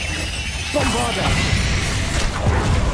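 A Bombarda explosion spell in the Hogwarts Legacy video game lands with a crashing, smashing burst after a quieter lead-in, followed by rumbling debris and further impacts, while a voice speaks over the battle.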